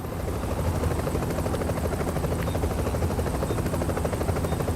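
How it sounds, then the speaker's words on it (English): Extraction helicopter arriving in a video game: a loud, steady rotor thrum with fast chopping pulses holds throughout, close and unbroken. "then you enter the chopper"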